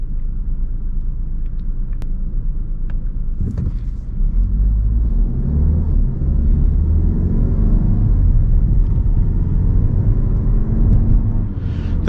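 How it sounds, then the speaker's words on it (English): Volkswagen turbo car driving down the road, a loud, continuous low engine rumble with road noise and a gently rising tone as it pulls, heard from inside the cabin. "The turbo engine in this car does give good acceleration, good torque."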